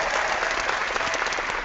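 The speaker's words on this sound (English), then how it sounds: "little round of applause there" Applause from a small group of listeners, a steady even burst of clapping that holds at the same level without any voices over it.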